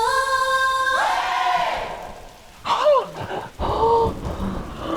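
Heavy storm rain pours steadily while thunder rumbles in the middle and a sustained tone fades out early; no one speaks.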